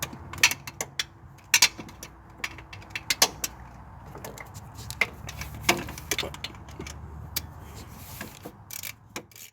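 Speed sensor on a 1996–2000 Honda Civic with a D16Y7 engine being tightened until snug, heard as irregular close mechanical ticks and ratchet-like clicks over nearly ten seconds, with no talking.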